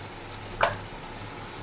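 Paneer cooking in a pan with onion and garlic paste, a low steady frying hiss with one brief brighter sizzle burst, close and quiet, no talking.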